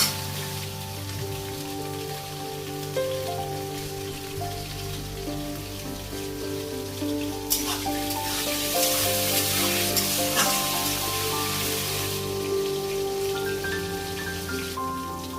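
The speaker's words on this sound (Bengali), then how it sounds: "আমি আলুগুলোকে ভালো করে লাল করে একটু নুন দিয়ে, 1/2 টিস্পুন থেকেও কম একটু নুন দিয়ে ভালো করে এটাকে ভেজে নেব" Potatoes frying in a pan with a little salt, a steady rain-like sizzle that grows fuller and brighter halfway through, with occasional clinks of stirring.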